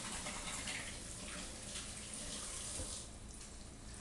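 An eggplant is rinsed under a running kitchen tap, with a steady close hiss of water pouring into the sink throughout, no talking.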